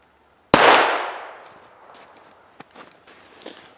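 A single gunshot fired through a pillow used as a makeshift silencer: one sharp, loud blast with a long fading tail, followed by a few faint thuds and rustles nearby.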